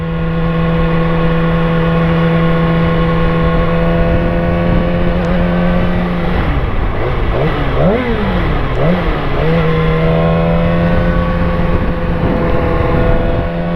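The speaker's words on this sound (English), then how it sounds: "I'm paranoid with sounds that my bike is making." A motorcycle engine runs steadily up close with a strong low hum, its pitch dipping and wavering briefly in the middle before settling back to an even drone.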